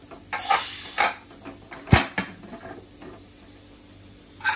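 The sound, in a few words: opening a pressure cooker after cooking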